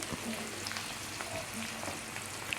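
Onion and masala powder sautéing in a pan for an eggplant sour curry give a steady, close sizzle and frying crackle that runs the whole time with no talk over it.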